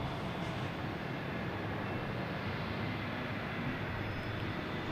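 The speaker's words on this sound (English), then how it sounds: "Another plane here sneaking out too, and this is that Gulfstream." Gulfstream business jet taxiing out at Boston Logan airport, a continuous low engine rumble and whine at moderate distance, steady throughout with no voices.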